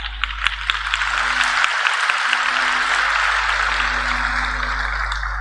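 Audience applause fills a hall during a spiritual talk, a dense, steady wash of many hands clapping at close range that continues without pause and with no voices over it.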